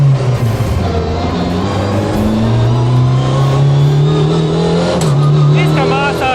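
Škoda Fabia rally car engine revving loud and close, pitch climbing through gears with a sequential gearbox, steady throughout with talk over the engine.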